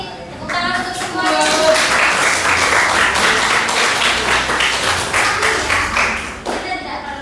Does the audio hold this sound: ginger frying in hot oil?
no